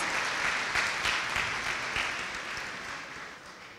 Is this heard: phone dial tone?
no